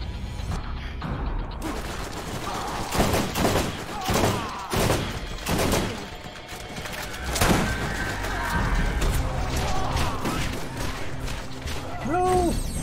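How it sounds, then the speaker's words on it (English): Rapid gunfire from a Gatling turret in the Borderlands video game, a dense, loud burst of shots and impacts that runs the whole stretch with game effects layered in. "I didn't know there was another Gatling turret"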